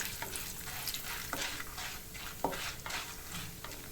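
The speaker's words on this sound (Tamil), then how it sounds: "எண்ணெய் சூடானதுமே முழு உளுந்து போட்டு அது கூடயே கடலைப்பருப்பையும் போட்டுக்கலாம்." Whole urad dal, chana dal and dried red chillies fry in hot oil for mint chutney, giving a continuous soft sizzle broken by stirring scrapes and light ticks in the pan, close but fairly quiet, with no talking.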